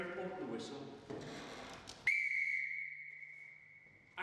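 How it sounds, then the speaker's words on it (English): A single loud, shrill Acme Thunder whistle blast used by firefighters to signal evacuation from an incident, sustained for about two seconds after a stretch of general background noise and voices at a fire station. "Acme Thunder whistle. We use that if we've got an incident and any firefighters need evacuating from the incident"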